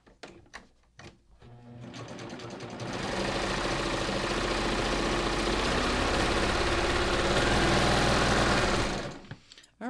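A Baby Lock Ovation serger sews a 4-thread safety stitch on a separate piece of fabric: a few short clicks, then a loud, fast, continuous motor whir that runs steadily for several seconds before stopping.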